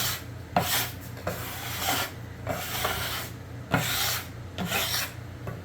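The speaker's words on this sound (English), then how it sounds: "this is actually a bench scraper, and it works great for cleaning the flour off of your bench or your table." A bench scraper drags across a flour-dusted table in repeated rasping strokes, close and fairly loud, with short pauses between passes and no talking.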